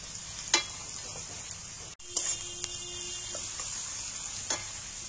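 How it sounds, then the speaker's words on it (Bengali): Ginger paste goes into garlic already frying in a pan, giving a steady sizzle with a few stirring clicks and a short break midway, close and alone without talk. "এবার আমি আদা বাটা দিচ্ছি 1 চামচ।"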